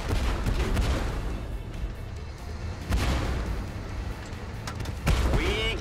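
Artillery bombardment in the Tank Force video game: a dense, continuous rumble of distant booms and blasts, with heavier impacts near the three- and five-second marks and no talk.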